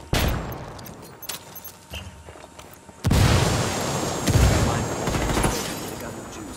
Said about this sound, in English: They're throwing a flashbang.